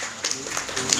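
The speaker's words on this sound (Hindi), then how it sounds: "ज़ोरदार तालियों से उनका इस्तकबाल करें।" Audience applause at a mushaira poetry gathering, a dense wash of clapping filling a brief moment, steady and fairly loud.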